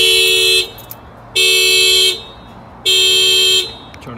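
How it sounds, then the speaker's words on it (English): A Honda Civic car alarm, triggered by tapping the door keyhole, blares in three long, loud tonal bursts separated by short pauses, with a faint tap or two between them. "So if anybody tries to break the keyhole or break the window, the alarm will fire off."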